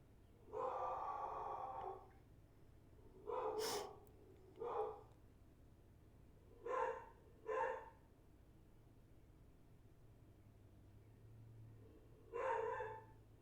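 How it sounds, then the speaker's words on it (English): A dog barks in several short bursts, some close together and others spaced apart, heard indoors at moderate volume with quiet gaps in between. "The dog alarm is going off."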